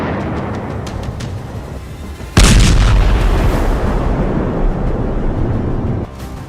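Bomb blast from strikes in Lebanon in news footage: a sudden heavy boom erupts over a loud rumbling background, followed by sustained roaring and rumble, with no speech.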